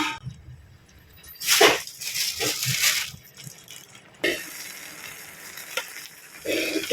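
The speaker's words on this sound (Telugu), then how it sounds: "ఇందులో సేమియా కూడా వేసేస్తున్నాను." Vermicelli fries in a pan for semiya vegetable upma while a spoon stirs it in quick scraping bursts. The stirring comes as a few short strokes over a low, soft sizzle, close by, with no talk.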